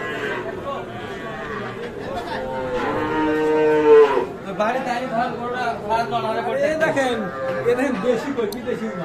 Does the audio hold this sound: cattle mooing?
yes